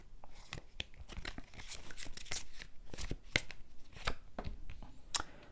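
Tarot cards being shuffled and handled, a soft, steady papery riffling and slapping with repeated crisp flicks, close and fairly quiet, with no talking.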